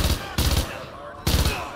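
Vector submachine gun firing rapidly in Call of Duty: Modern Warfare 2 Remastered: two loud, dense bursts of fast automatic gunfire separated by a short pause, close and punchy.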